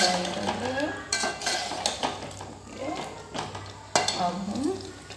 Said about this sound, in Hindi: ये हम फ्राई कर रहे हैं।